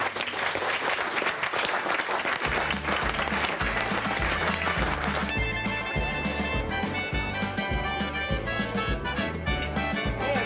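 Audience applause for a Swiss country-women's cooking show in Rickenbach SZ, dense and loud, with a steady, thumping music beat joining after a couple of seconds and continuing under the clapping.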